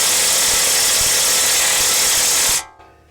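A Milwaukee M18 Fuel impact wrench strains against a front caliper bolt on a Toyota Tundra, torqued to 91 foot-pounds, with a loud continuous whine and rapid hammering for about two and a half seconds before it stops abruptly.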